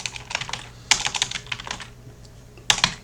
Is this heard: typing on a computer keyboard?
yes